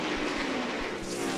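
Scott Wimmer's NASCAR Busch Series stock car roars at full throttle into turn 3 at the 2007 Gateway 250. The engine noise is a dense, loud, sustained blare with no break.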